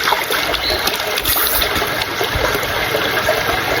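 Steady rushing and splashing of a cold river in Konkan close by, continuous and fairly loud, with no voices.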